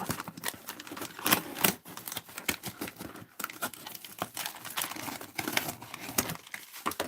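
Scissors snip through a shipping label on a cardboard box amid rapid crinkling and tearing of paper and cardboard, close and busy with irregular sharp clicks, with no talking.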